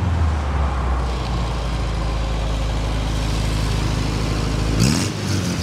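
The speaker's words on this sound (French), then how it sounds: "Le son de la Matra quand il démarre." A 1968 Matra M530 with a Ford V4 engine runs with a low, steady, slightly uneven rumble close by, then blips sharply near the end before settling again.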